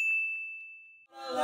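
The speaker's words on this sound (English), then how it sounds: "please don't forget to subscribe and hit that notification bell" A single bright notification bell ding rings out clear and alone, holding for about a second before fading as music starts.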